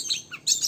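An oriental magpie-robin (kacer), kept as a cage bird, gives a quick pair of bright, high chirping bursts close by, the second phrase louder and fuller than the first.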